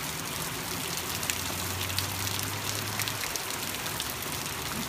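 Heavy rain pours steadily over a road in Anaheim, a dense unbroken hiss of drops hitting surfaces, with a low engine hum rising briefly in the middle.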